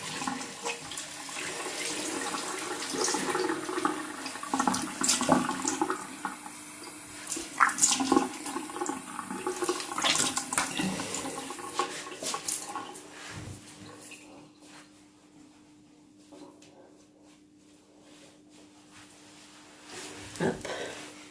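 Water runs from a bathroom tap while a face is rinsed, a fairly loud splashing stream that then fades, with someone speaking French over it.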